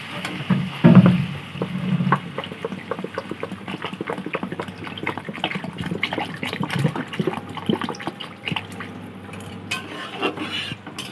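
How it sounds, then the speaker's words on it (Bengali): Water is poured into a pan of fried spices and potato for a Bengali katla fish curry, giving splashing, sizzling and bubbling, with a few utensil clinks and stirring sounds close by. "এবার জল দিয়ে দেবো।"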